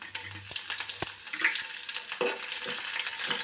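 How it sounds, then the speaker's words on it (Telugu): Red chillies frying in hot oil in a pan for a garlic chilli powder tempering, a continuous close crackling sizzle broken by a few sharp stirring clinks. "మిరపకాయలు కొంచెం వేగిన తర్వాత కళ్యామాకు వేసుకోవాలండి"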